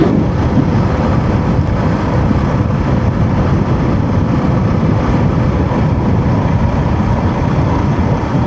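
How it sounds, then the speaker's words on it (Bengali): Strong wind roars steadily across the microphone on a fast motorbike ride along a rough road, a loud, continuous buffeting rush with no break. "বাতাসও প্রচুর হচ্ছে, এত যে বাতাস কেন হচ্ছে কে জানে।"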